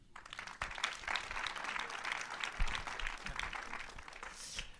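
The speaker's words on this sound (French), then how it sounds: "Applaudissez Tommy Lee." Audience applause welcoming a screenwriter-comedian to the stage for a film pitch at a producers' event, a steady burst of clapping from a seated room at moderate level, sustained for several seconds with a few sharper claps near the end.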